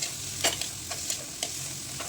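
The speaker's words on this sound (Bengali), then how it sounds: "ভালো করে ভাজা ভাজা করে নিতে হবে আলু আর কাঁচা টমেটো আর পেঁয়াজ" Potatoes, raw tomato and onion being stir-fried in a pan: a steady soft sizzle with intermittent scraping stirs of a utensil, close and moderately quiet, no voices.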